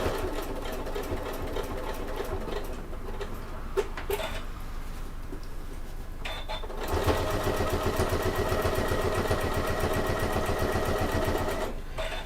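A sewing machine stitches a seam on a convertible adventure bag at stitch length four, a steady close mechanical whirring rattle that stops for a moment, then resumes faster and louder before a short pause.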